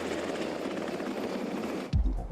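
Steady, loud rotor and engine roar of a Black Hawk helicopter flying nearby, continuous throughout and then abruptly broken by a sudden low thump near the end.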